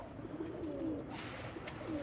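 Pigeons kept for a bird auction in Ankara coo softly and repeatedly, the low rolling calls close by over a steady background.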